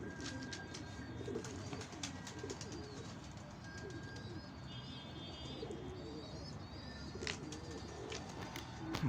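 Pigeons coo repeatedly in a quiet, echoing space, with scattered chirps and faint clicks around the low, steady calls.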